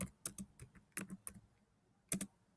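Clicky keystrokes on a computer keyboard as a date is typed into a Google Docs letter, a few quick taps, a pause, then a final keystroke, close and quiet.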